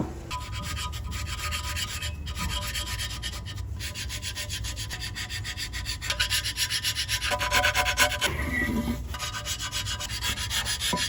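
An intake manifold is sanded by hand with steady back-and-forth rasping strokes, close and continuous, growing a little louder and more vigorous toward the end, with no talking.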